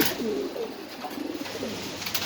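Pigeons at a pigeon farm cooing in soft repeated low throaty calls, several phrases in succession over faint background noise, no speech.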